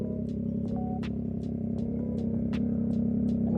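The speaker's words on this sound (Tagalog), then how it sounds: "So ito, pakinggan nyo yung tunog ng exhaust." Yamaha MT-09 motorcycle exhaust idling with a steady low rumble throughout, alongside a series of sharp ticking clicks.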